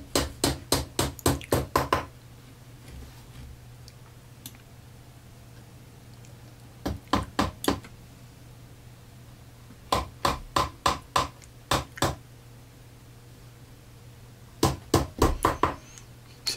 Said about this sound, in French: vous entendez le son du marteau